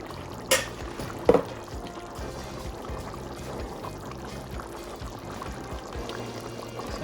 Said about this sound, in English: So I'm gonna take some from the kettle and measure it out